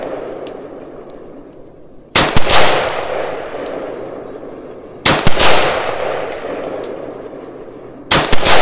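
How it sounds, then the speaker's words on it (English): A PSA 14.5-inch CHF rifle fires 69-grain handloads at a range. Three sharp, loud shots come about three seconds apart, each with a metallic ring and a long decaying echo. "let's go ahead and shoot some of these 69 grain hand loads and see how they group up"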